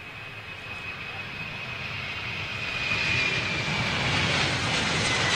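KLM Boeing 777 jet airliner flying over, a broad roar that builds steadily and grows louder toward the end, with a faint high whine running through it.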